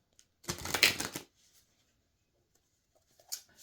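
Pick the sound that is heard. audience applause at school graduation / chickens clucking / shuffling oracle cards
shuffling oracle cards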